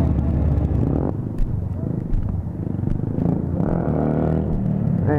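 Several motorcycles rumble at night on a group ride through Albuquerque, a steady low engine drone with revving swells close by while people talk over it.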